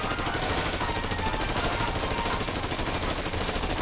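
Rapid, continuous gunfire fills Taito's 2009 arcade light gun game Haunted Museum, a dense, steady barrage of shots layered over loud game sounds with no pauses and no talk.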